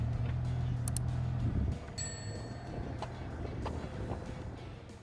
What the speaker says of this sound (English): Here I'm lining up the excavator